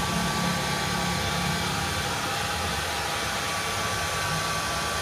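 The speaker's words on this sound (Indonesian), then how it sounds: "Proses pengeringan pakai hair dryer." A hair dryer blows on a screen printing screen with a loud, steady whooshing hum, continuous and close throughout.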